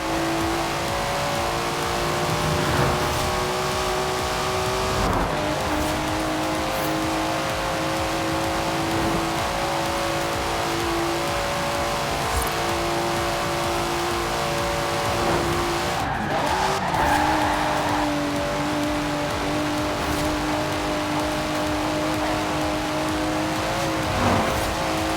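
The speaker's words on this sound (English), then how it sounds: "Listen to that. Never heard a Datsun sound like that" A Datsun in the racing game Forza Horizon 4 drives hard, its engine holding a loud, buzzy tone with steady harmonics. The note drops and climbs again at several gear shifts, with brief tyre scrubs along the way.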